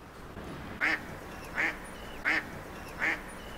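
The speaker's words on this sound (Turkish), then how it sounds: "Bakın arkadaşlar şurada yüzen bir ördek var." A swimming duck quacks four times at an even, unhurried pace, fairly faint against a quiet outdoor background.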